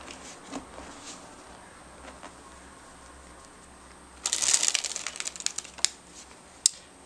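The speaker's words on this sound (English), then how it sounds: "cut at your break, and shuffle the cards together." Deck of playing cards riffle-shuffled together during a card trick, a short burst of quick fluttering snaps lasting about a second, followed by a few light taps, in a quiet room.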